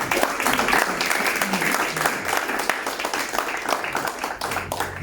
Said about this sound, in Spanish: ¿Quién puede aplaudir este canto?